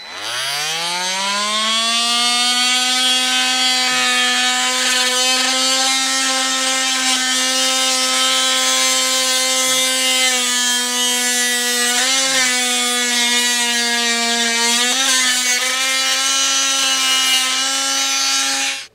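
An oscillating multi-tool notches a car bumper beam during a hidden trailer hitch install, a loud sustained buzzing whine that starts with a quick rise and holds steady for nearly twenty seconds with slight pitch wobbles, alone.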